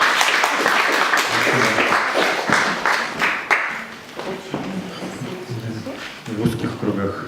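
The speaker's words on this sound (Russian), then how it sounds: "Пожалуйста, аплодисменты." Audience applause at a Russian poetry reading: a burst of clapping that fades into scattered claps while the crowd murmurs and a voice starts to speak.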